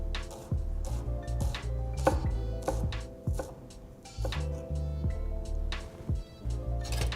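A kitchen knife finely dicing a shallot on a cutting board for beef fillet Dijonnaise, with rapid rhythmic chopping taps in quick bursts, close and crisp, broken by short pauses.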